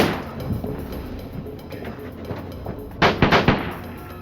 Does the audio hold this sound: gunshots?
yes